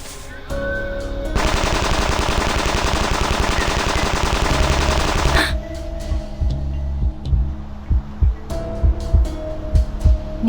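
Small-caliber machine pistol gunfire in the game Reverse: 1999: a sustained loud automatic burst lasting several seconds, followed by scattered single shots and mechanical clatter.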